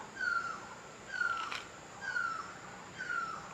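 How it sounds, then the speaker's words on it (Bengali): A bird near Singritam village in the Darjeeling hills repeats a short descending whistle four times at an even pace, about one call per second, soft against a quiet outdoor background. "পাখিটা তখন থেকে ডেকে যাচ্ছে"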